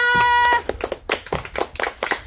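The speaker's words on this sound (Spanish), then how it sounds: "Virginia, un aplauso." A few people clap hands, uneven sharp slaps in a loose rhythm after a short musical tone at the start, close by, on a farm with chickens.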